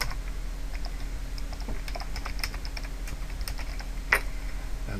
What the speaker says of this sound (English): then you'll type in your name